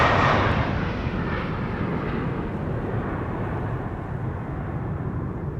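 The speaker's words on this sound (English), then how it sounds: "And Saudi 747 overhead, indeed." A Saudi Cargo Boeing 747 arriving from Jeddah passes overhead at Amsterdam Schiphol Airport, a loud, steady broadband jet roar that stays strong throughout and eases only slightly toward the end.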